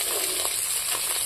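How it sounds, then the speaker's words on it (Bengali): Fish fries in a pan with a brief, steady, close-up sizzle and hiss, heard alone without talk. "মাছ ভাজা হয়ে গেছে। আর আমি মাছগুলো তুলে দিচ্ছি।"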